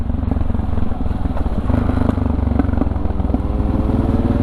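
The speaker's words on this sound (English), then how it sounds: "I can't handle my backfires" A motorcycle engine runs loud and close with a rough, pulsing low rumble and rapid sputtering pops, steady throughout with no speech.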